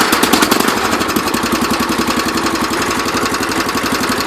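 Small engine of a John Deere 214 lawn tractor running steadily at a rough, pulsing idle, loud and close, freshly serviced with new spark plug and oil, with no talking.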